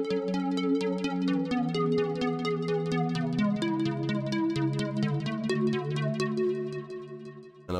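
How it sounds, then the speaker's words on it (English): Arpeggiated MIDI chords from an arpeggiator in Ableton Live 9, a steady stream of evenly spaced bright synth notes cycling through changing chords, clean and continuous with no voice. "I'm gonna put an arpeggiator on this."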